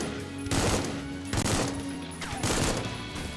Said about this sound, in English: A highly accurate 3-shot burst when zoomed.